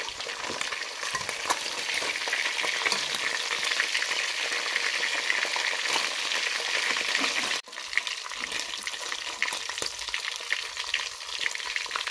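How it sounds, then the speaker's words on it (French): Fish fries in hot oil with a dense, continuous crackling sizzle that holds steady throughout, close up with no voices. "une fois mon poisson bien frit"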